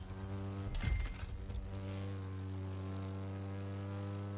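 A propeller airplane engine drones steadily in the racing game The Crew 2 after a brief louder whoosh. The tone stays harmonic and sustained, with no talk.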